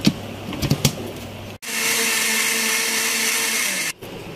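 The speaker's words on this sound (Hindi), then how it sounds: "क्रीम के साथ भी हम इसको अच्छी तरह से ब्लेंड करेंगे" An electric blender whirs loudly and steadily for about two seconds as it blends a spice paste with cream for an Afghani mutton gravy. Brief clatter comes first, and the motor cuts off abruptly.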